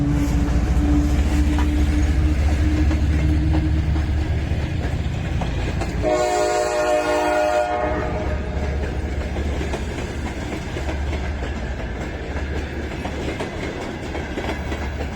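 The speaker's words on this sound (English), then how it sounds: "Old-fashioned steam train there." Old-fashioned steam train on a Soviet-era Bishkek railway line passes with a steady rumble and clickety-clack of wheels, a loud horn blast partway through, then continues rolling past.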